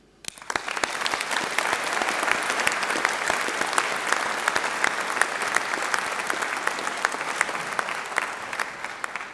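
A graduation audience breaks into applause, rising quickly from quiet into a dense, sustained roar of clapping that continues evenly at full strength to the end.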